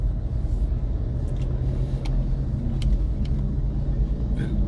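Tricycles and other traffic pass on a city street in Mandurriao, Iloilo City, a continuous low road rumble with faint clicks and brief higher engine notes, moderately close, without speech.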